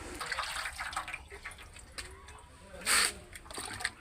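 Cups of rubber latex, milk with a fairly high rubber content, poured one by one into a container, wet splashing and gurgling pours with a brief louder gush near the end.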